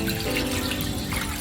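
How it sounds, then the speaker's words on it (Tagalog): Tap water runs steadily into a bowl to submerge chicken, a continuous close splashing rush with no break and no voices. "So, pupunuin natin ng tubig"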